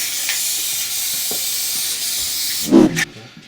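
Plastidip rubber coating sprayed from an aerosol can onto car wheels, a steady close hiss running several seconds before a louder burst near the end and a quick fade.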